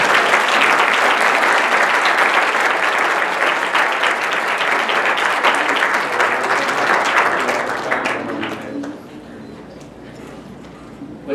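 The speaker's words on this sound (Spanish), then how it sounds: "un aplauso para ellos." Sustained applause from an audience at a conference on the 1917 Constituent Congress debates, a dense, loud patter of many hands that slowly thins and fades toward the end, with a voice faintly present.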